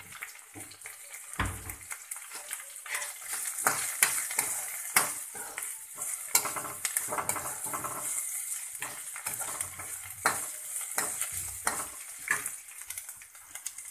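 Whole spices — cinnamon pieces, two cardamom pods and coriander seeds — frying in a pan with steady crackling sizzle and scattered sharp pops, close and continuous with no talking.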